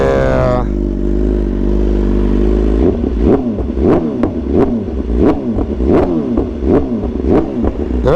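A BMW S1000RR sport bike sits at a loud, steady idle, then gets a rapid series of sharp throttle blips, each rev rising and falling quickly in a close, punchy rhythm.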